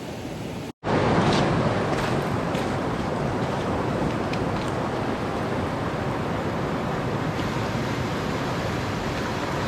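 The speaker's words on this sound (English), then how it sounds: "we're right next to a river" A river flows beside a winter campsite, a steady broadband rush of water that fills the whole clip after a brief click at the start, with no voices.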